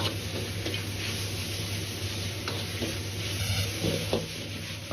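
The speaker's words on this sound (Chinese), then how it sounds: "下入挤干水分的娃娃菜翻炒，大概炒20秒鐘左右" Squeezed-dry napa cabbage stir-fried in a wok with a little oil gives a steady, close sizzle, with light scrapes and clicks of stirring running throughout.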